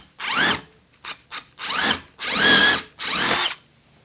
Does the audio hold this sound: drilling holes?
yes